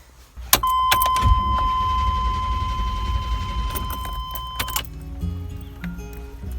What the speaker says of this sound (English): the truck's not starting